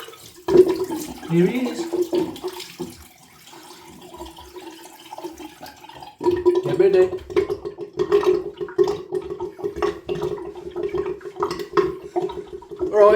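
Water runs and gurgles down a bathroom sink plug hole during a cold-water face rinse, a steady nearby splashing and draining sound with a voice speaking briefly over it.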